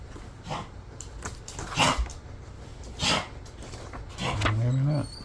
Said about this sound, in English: my dog's hacking